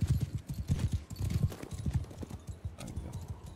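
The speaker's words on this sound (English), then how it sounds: "Wow, there's horse archers going in." Horse archers gallop in the Mount & Blade II: Bannerlord battle game, a dense run of hoofbeats clip-clopping steadily and loud, with a brief whinny near the end.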